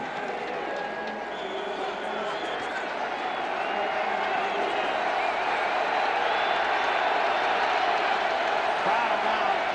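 A college football stadium crowd roars in a sustained, distant wash of cheering as Washington hosts USC in 2001, the noise swelling slightly over the stretch.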